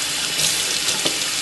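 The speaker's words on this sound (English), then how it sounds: "And rinse it out real good" A kitchen tap runs steadily as seafood is rinsed in a sink, a brief continuous wash of water with a couple of small splashes and clinks.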